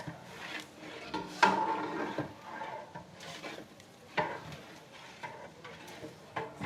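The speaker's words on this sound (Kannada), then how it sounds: "ಶುಂಠಿ ಬೆಳ್ಳುಳ್ಳಿ ಪೇಸ್ಟು ಕಿಟ್ಟಣ್ಣ ಹಾಕ್ತಾವ್ರೆ, ಚಂದ್ರಣ್ಣ ಅಲ್ಲಾಡಿಸ್ತಾವ್ರೆ" Ginger garlic paste frying in a large pot for a non-veg wedding feast, stirred with a ladle: soft sizzling under irregular scraping and knocking strokes against the pot, with no talk.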